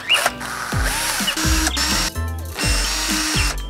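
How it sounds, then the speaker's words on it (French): A power drill bores small holes into parquet wood for candle holders, its motor whining up in repeated short bursts that spin down between runs, loud and close with no talking. "je crois que je vais faire des petits trous pour mettre les bougies et après je poncerai tout"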